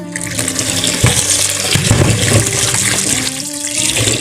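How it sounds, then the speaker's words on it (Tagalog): Rice grains being washed in water in a kitchen for chicken rice, a close, steady splashing and swishing of water throughout with small sloshing surges. "Uugasan natin guys yung ating bigas. Yan, hugasan muna natin siya ng mga dalawang beses pwede na."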